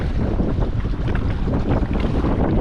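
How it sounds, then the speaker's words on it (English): Wind rushes steadily over the microphone while a boat sails on open water, making a constant close, buffeting roar with no breaks. "Wind has picked up a little bit."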